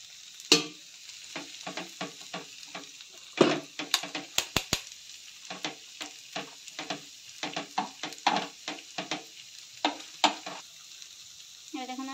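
A paratha fries in oil on a hot pan, with a steady sizzle under repeated scraping and stirring strokes from a spatula, close and moderately loud with no talk.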